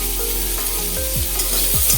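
Bitter gourd slices fry in hot oil as the moisture cooks off, a loud, close, even sizzle with crackles and faint utensil scrapes, no talking.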